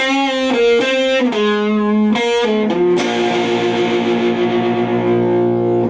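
A distorted electric guitar plays a quick lick with bending, sliding notes, finishing on a sustained note that rings out with effects.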